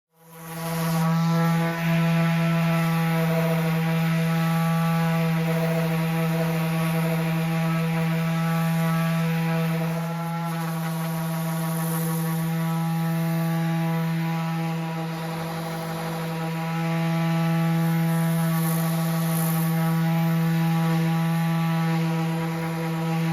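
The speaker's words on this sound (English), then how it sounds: "Now I'm going to sand the daylights out of them." A power sander hums loudly and steadily while smoothing the rounded corners of an oak table, its droning motor tone holding for over twenty seconds with slight shifts in pressure and no talking.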